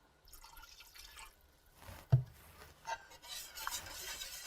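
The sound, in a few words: pouring chicken broth into pumpkin sauce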